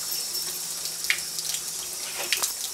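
Warm water runs steadily from a tap, a continuous close hiss and splash with a few brief clinks, no voices.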